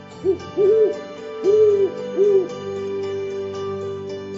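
An owl hoots at night, four distinct hoots in an uneven rhythm, fairly close and clear over a quiet background hum.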